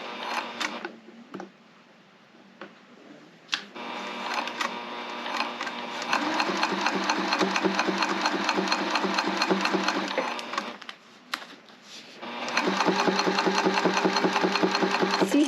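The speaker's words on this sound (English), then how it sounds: "I'm catching it as I'm sewing." A sewing machine stitches a tote bag in steady fast bursts, its motor whirring and needle clattering closely, with short pauses between runs and no talk.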